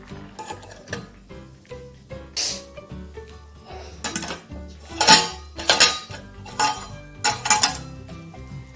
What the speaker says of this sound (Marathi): आता आपण वाफवून घेऊया पाच मिनिटासाठी झाकण ठेवूया